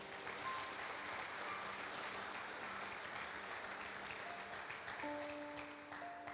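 A church congregation claps together in sustained, even applause throughout, a dense wash of hands with faint tonal hum beneath, fairly distant and steady without a break.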